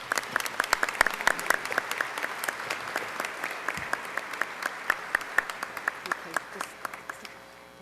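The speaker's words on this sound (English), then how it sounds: "why don't you give her a warm round of applause right now?" An audience gives a warm round of applause, a smaller crowd with distinct individual claps audible, moderately loud and steady before gradually thinning out.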